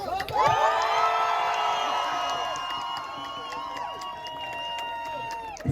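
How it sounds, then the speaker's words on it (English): Outdoor rally crowd at Cardiff Central applauding and cheering for a ceasefire speaker, loud whoops and shouts swelling at once, then a sustained roar of voices that slowly eases off. "Round of applause."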